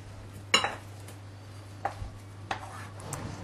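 Vegetables being set into a gratin dish for a vegetable crumble, giving a few sparse clinks and knocks against the dish over quiet background hum, with no speech.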